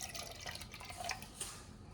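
Red Jello liquid trickles and drips into a beaker, a quiet, close pour with small splashy drops and light liquid patter, no voices.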